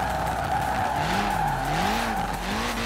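Tiny Peel P50 microcar sliding sideways in Forza Horizon 4, a steady tire squeal with a wavering, rising and falling engine drone running throughout, loud and close with no talk.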